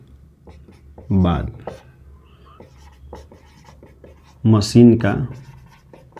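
Pen or chalk scratching out a math solution on a population-percentage problem, a faint continuous scratchy stroke sound running beneath a man's spoken Hindi explanation, with two louder bursts of talk.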